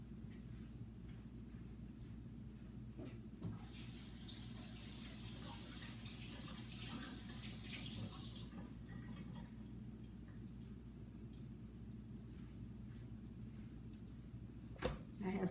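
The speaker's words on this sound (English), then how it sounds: "I'm going to wash my hands." Hands washed under a running kitchen tap while cooking, a faint steady hiss of water lasting about five seconds, with light clinks and a low room hum around it.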